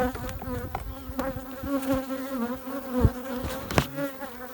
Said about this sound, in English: Another strange thing is this hive is extremely aggressive right now.